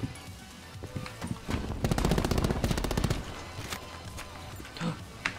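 Rapid submachine gun burst in Call of Duty Black Ops 4 Blackout, a rattling run of shots lasting about a second and a half amid scattered game sounds and background noise.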